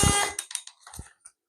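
An electronic shot timer gives a single loud, piercing beep at the start of a dry fire drill with a red dot sight on a pistol caliber carbine, followed by a few faint, sparse clicks and taps.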